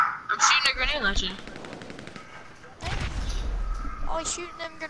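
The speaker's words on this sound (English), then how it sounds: "I'm shooting a grenade launcher." Explosive weapon fire from a grenade launcher in GTA 5: a loud burst early on, then another heavy volley later, mixed with excited voices of players talking over the action.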